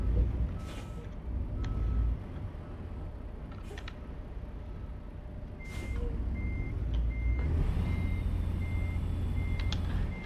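A big rig in American Truck Simulator turns around in Arizona with a wheel loader load, reversing beeps pulsing steadily over a low diesel rumble, a few air-brake hisses and clicks along the way.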